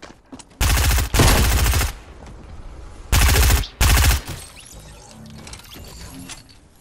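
Gunfire in the video game Fortnite, two pairs of loud, rapid automatic bursts with quieter clicks and clatter between them, and no talk.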